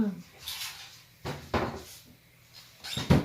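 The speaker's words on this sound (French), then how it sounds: "Après avoir ouvert tous les tiroirs." Drawers are pulled open and pushed shut one after another, a few sharp wooden clunks and brief sliding knocks, close by with quiet gaps between them.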